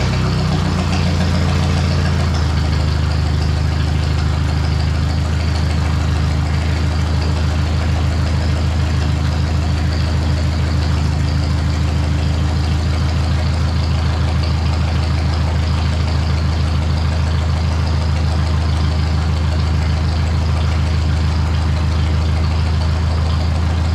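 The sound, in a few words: Ford 641 tractor engine running after carburetor repair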